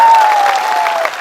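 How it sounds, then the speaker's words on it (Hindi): A crowd at a political party gathering claps steadily and loudly to welcome politicians joining the party, a dense burst of applause lasting the whole moment. "ताली दीजिए इनको।"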